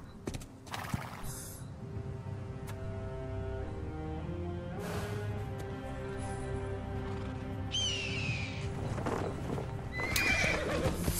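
A horse approaches in Assassin's Creed Origins, its hooves clopping in a steady rhythm before loud neighs and whinnies ring out close by, with a faint bird call in the background.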